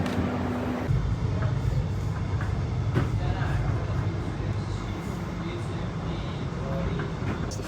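A suburban train on Melbourne's Frankston Line rumbles along steadily, a dense, continuous low roar that holds at an even level throughout with no breaks.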